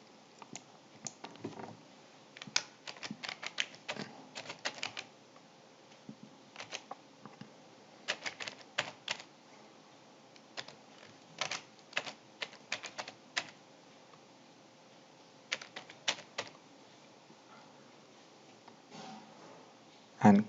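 Bursts of clicky typing on a computer keyboard, entering a name and email address, close and fairly faint, in short flurries separated by pauses of quiet.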